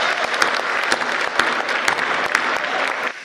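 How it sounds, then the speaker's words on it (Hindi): Audience applause at a Hindi hasya kavi sammelan, a comic poetry gathering: dense, steady clapping from a crowd that goes on for about three seconds, then stops abruptly. "आप लोगों को तालियां बजानी ही होगी"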